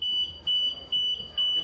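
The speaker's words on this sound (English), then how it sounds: "as we were walking up the gangway to board, alarms suddenly started blaring and we were stopped in our tracks" Alarms blare at the boarding gangway of the Sun Princess cruise ship. A high electronic tone sounds in four evenly spaced pulses, with faint background noise between them.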